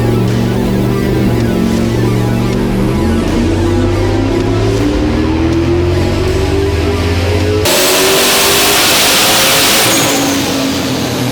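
A nitrous-equipped drag racing car makes a hard pull at a drag shootout, its engine roaring loud and rising steadily in pitch as it accelerates, then cutting to a distant, higher whine as the run carries on.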